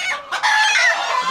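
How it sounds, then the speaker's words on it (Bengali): A small Malaysian Serama rooster crows loud and close in a single strained, high-pitched call that lasts just over a second and stands alone. "এর মোরগকে দেখুন, চিৎকার করতে পারে খুব ভালো"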